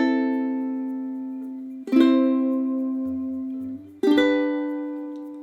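A ukulele plays down strums on a chord progression, three slow single strums about two seconds apart, each ringing and fading, close and clear with no talking.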